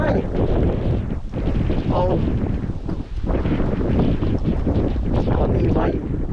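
Strong wind buffets the microphone in heavy, continuous gusts, rumbling and roaring with brief lulls.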